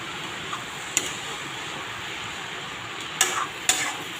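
Potatoes and delicate shiuli flowers are stirred in a frying pan over a constant soft sizzle, with three brief scraping clicks of the spatula against the pan.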